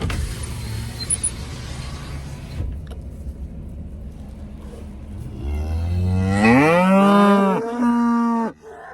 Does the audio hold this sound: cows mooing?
yes